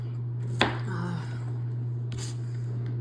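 White onion being chopped with a knife, with a couple of sharp cutting knocks on a board over a steady low hum, close and fairly quiet.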